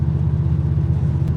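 A 1968 Chevelle engine cruising in fifth gear at about 2,000 rpm, a loud, steady low rumble with an even pulsing throb, heard from inside the car.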